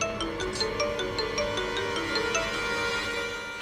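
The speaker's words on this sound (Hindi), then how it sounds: "ये रवि क्यों फोन कर रहा है मुझे?" A mobile phone ringtone for an incoming call plays steadily as a repeating melodic tone pattern in an indoor scene, with no talking over it.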